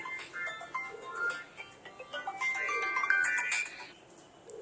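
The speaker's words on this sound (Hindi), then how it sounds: "आप फोन सुन लें बेशक।" A phone rings with a bright, repeating electronic melody in a room where pigeons are kept, loud and close over low background noise, with no voices during the ring.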